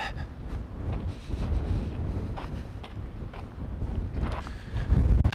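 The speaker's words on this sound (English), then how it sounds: "Oh, folks, the wind is back," Strong wind buffets the microphone outdoors in a steady, low rumbling roar that swells louder toward the end, with no voices heard.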